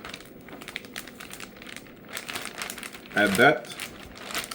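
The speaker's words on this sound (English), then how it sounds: "Now we're gonna grab a saran wrap or some type of Ziploc" Plastic cling wrap crinkles close by in a brief loud burst near the end, over a steady kitchen background with someone talking before it.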